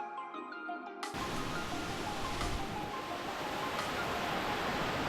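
Rushing water from streams crossed on a steep waterfall hike in Indonesia, a steady loud broadband roar that begins abruptly after a second of quieter sound and then holds constant.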